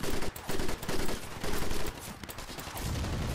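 Rapid gunfire from a World War II jungle shooter game, several dense bursts of automatic fire with short pauses between them. The noisy rattle continues steadily through the moment.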